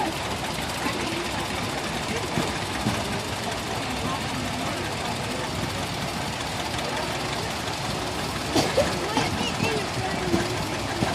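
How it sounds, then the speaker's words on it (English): A John Deere 420 tractor engine runs during a power parade, a steady low chugging idle mixed into outdoor crowd noise with voices talking over it. "we've got a John Deere 420 next"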